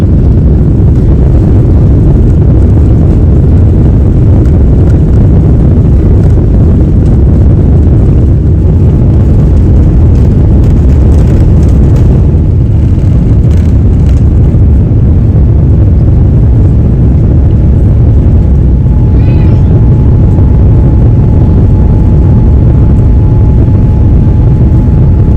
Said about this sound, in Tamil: ஃபைனலி நம்ம டேக் ஆஃப் ஆயிட்டோங்க. ஸோ இப்படிதான் இருக்கும்.